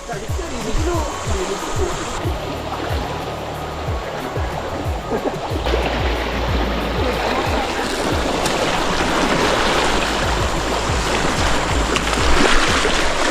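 River water flows steadily at a campsite in Raub, a broad wash of rushing sound that builds slightly over time, with people talking intermittently over it.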